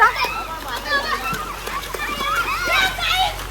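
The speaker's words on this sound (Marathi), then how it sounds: "चल ए पाणी नको उडू" Children splash and play in water at a farmhouse during a birthday celebration, with light sloshing and splatter heard under a woman's and children's voices talking throughout.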